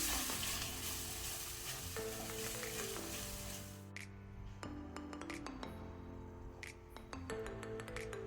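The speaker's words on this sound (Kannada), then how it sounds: "ಒಂದು 30 ಸೆಕೆಂಡ್ ಮಸಾಲವನ್ನು ಫ್ರೈ ಮಾಡುವ." Dry masala for an egg green masala gravy fries in a pan, crackling with a dense sizzle, then settling as a spoon clinks and stirs in sparse sharp taps, close and fairly quiet.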